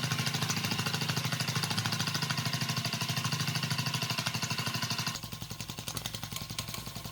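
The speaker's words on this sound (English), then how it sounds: "It's a beautiful running engine." A Rocking Whale model steam engine kit runs with a fast, even mechanical chuffing and clatter that stays steady and near, dropping slightly in level about five seconds in before carrying on.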